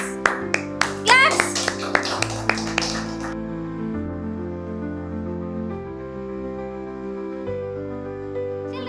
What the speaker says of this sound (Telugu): Okay, good. క్లాప్స్.